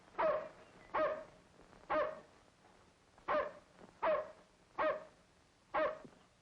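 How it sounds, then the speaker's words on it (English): A dog barks in a 1937 film scene, seven sharp single barks spaced roughly evenly about a second apart, fairly close and clear with nothing else underneath. "But you can't let him bark."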